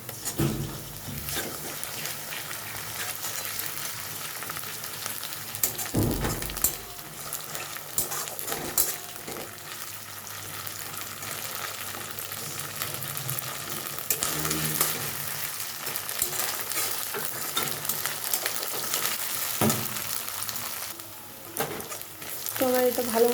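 Ginger sizzles with browned onion in a hot pan for a mutton curry, a steady close frying hiss with repeated spoon stirring and scraping against the pan throughout.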